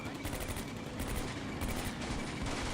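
Rapid cannon bursts from a German Puma armoured car in the Combat Mission Beyond Overlord war game, a dense, steady stream of loud gunfire filling the whole span with no pauses.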